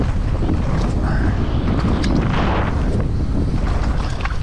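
Gusty wind buffets the microphone at the top of the Llangollen downhill mountain bike track on race day, a loud continuous roar with low rumbling surges throughout.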